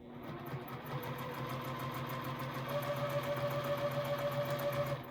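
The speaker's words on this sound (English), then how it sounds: "keep it feeding through the sewing machine" A sewing machine stitches through quilt fabric for a nine-patch throw, a steady mechanical whir with a low motor hum running continuously and fairly faint throughout.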